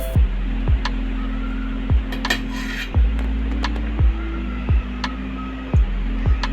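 Tablespoons of oil being added to a pot holding a mutton leg for steam roasting, with about eight sharp metallic spoon taps against the pot, spaced roughly a second apart, over a steady low hum.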